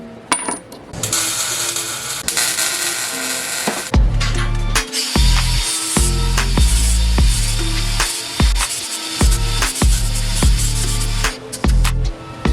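Plasma-cut metal tabs are cleaned of slag with repeated sharp metallic scraping and chipping strokes, loud and close in an irregular rhythm with brief pauses, and no talking.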